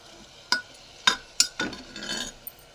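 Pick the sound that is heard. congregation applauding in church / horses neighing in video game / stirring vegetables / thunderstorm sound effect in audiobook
stirring vegetables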